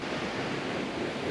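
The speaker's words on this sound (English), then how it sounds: "There's a giant water wheel in front of us." A giant water wheel at Juniper Springs in Ocala National Forest, Florida, turns with rushing water, making a steady, loud, close broadband roar with no break or pause.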